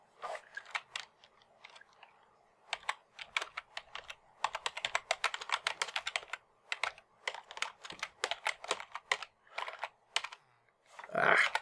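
Rapid typing on a computer keyboard during a Minecraft Hermitcraft session, with dense bursts of clicking keystrokes close to the mic, brief pauses between runs, and a louder thump at the end.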